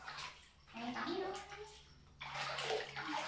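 A baby monkey splashes and sloshes water while bathing in a pool, the splashes coming in uneven bursts close by, with people talking over them.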